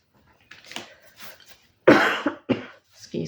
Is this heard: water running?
no